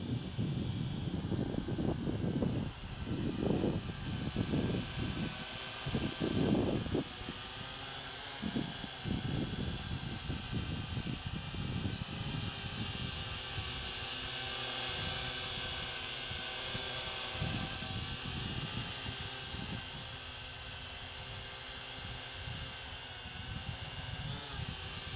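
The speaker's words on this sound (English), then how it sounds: "To arm the quadcopter, you simply lift the throttle stick up for a second or so and the props will start." Syma X8HG quadcopter drone arming and flying outdoors, its four propellers spinning up into a steady, airy buzz with uneven bursts of wind noise buffeting the microphone; no speech.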